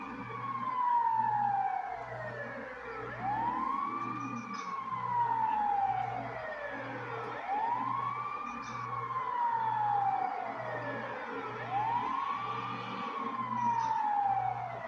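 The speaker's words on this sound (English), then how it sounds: "Ambulance coming through." An ambulance siren in the video game GTA 5 sweeps up and down in a repeating wail, loud and steady, over a low engine drone throughout.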